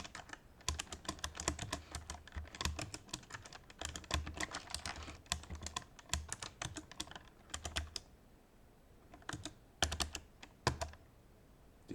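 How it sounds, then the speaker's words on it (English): Steady, fast typing on a computer keyboard while entering AWS access keys, keys clattering close and crisp in dense runs with short pauses, no voice present. "So we will also type that in."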